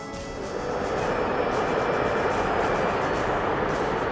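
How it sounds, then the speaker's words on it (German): A train passes near the Kirnstein castle ruin, heard as a continuous rolling rumble that swells within the first half second and then stays steady and fairly loud. "Im Hintergrund hört man gerade den Zug."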